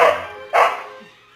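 A small, playful pet dog gives two sharp, close barks about half a second apart indoors, with a faint whimper after the second one.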